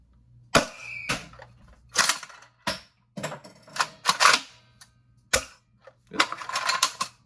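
Second-prototype Breacher toy blaster firing a series of sharp mechanical shots, loud and close, alone with no talking: single clacks and short bursts of clicks spaced irregularly, with a low steady hum underneath.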